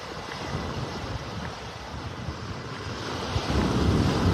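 Wind blowing across a beach in North Naples, Florida, a steady broadband rush buffeting the microphone, growing stronger toward the end.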